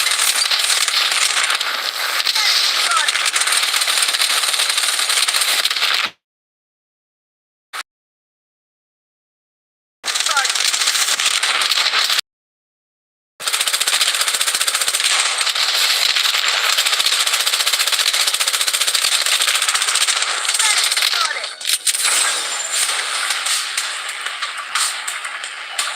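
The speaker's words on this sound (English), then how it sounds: "Enemy spotted! Defensive turret activated." A defensive turret in a video game fires at an enemy in long, dense, crackling bursts of rapid automatic shots, loud and continuous, broken by two abrupt silent gaps.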